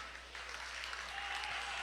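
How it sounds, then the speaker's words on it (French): An audience at a square dance applauds caller Sylvie Gagnon, a soft, steady spatter of clapping heard at a distance under a low hum. "On l'applaudit encore une fois."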